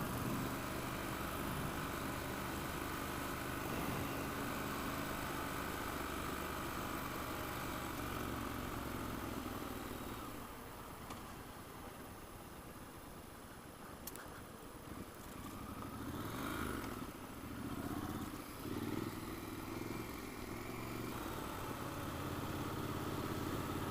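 Triumph Scrambler 1200 motorcycle engine under way, a steady continuous drone with road and wind rush that dips slightly in the middle before building again, no talking.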